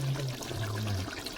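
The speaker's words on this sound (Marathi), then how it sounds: "कसले बुडबुडे येतात बघ." Chicken curry bubbling as it cooks in a pot, a short steady run of liquid bubbling and gurgling with no one talking.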